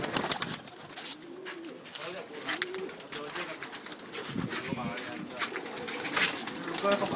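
Pigeons coo from a loft of about sixty to seventy birds in Ujjain, soft repeated calls running throughout, with a person talking over them.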